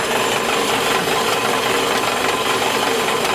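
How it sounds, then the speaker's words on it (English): A bandsaw cuts through a steel car suspension part during an Audi A3 8P air ride install, giving a loud, steady, grinding rasp that stays even and continuous from start to finish. "So right now, I have the other side in a bandsaw right now. And it's just cutting along that line."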